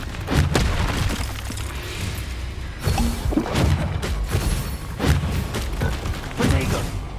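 Blasting-spell explosions from a wizard duel crash and boom repeatedly, loud and close, each heavy burst rumbling over a dense, continuous roar of destruction and debris.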